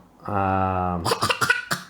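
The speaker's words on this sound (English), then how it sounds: "that's a fake cough if I ever heard one" A sustained hummed vocal note breaks into several short, forced-sounding coughs, close and fairly loud.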